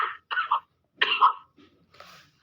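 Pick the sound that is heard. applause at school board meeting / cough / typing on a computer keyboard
cough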